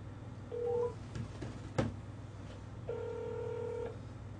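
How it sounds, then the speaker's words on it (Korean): A phone being dialed gives short electronic keypad tones, then a longer sustained dial tone, quiet and close, with a sharp click in between. "내가 기우단이한테 한번 전화해볼게요"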